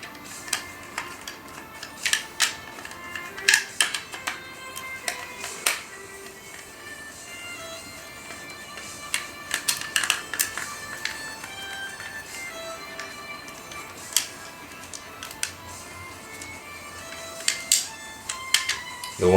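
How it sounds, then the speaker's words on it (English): Screws are worked out of an iRobot Roomba motor, producing faint, sparse ticks and small metallic clicks scattered across a quiet, steady background with no talking. "to get the motor out, we're going to screw these 4 screws right here"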